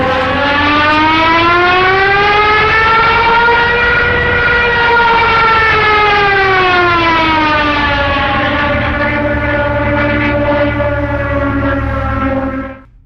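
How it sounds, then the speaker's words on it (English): Junkers Ju-87 Stuka dive siren howling loud and steady, a wailing harmonic tone that rises then slowly falls in pitch over about thirteen seconds before cutting off abruptly. "the piercing howl of the siren on the unmistakable Junkers Ju-87"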